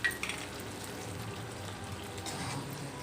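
Instant kuzhambu curry simmering and thickening in a pot with jaggery added, giving a steady soft bubbling sizzle throughout, close and moderately quiet, with no talking.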